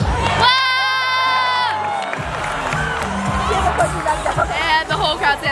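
A crowd at the adjournment of a DECA state career development conference rises and cheers, with loud sustained whoops, shouting and a long whistle-like tone early on, all under a dense babble of voices.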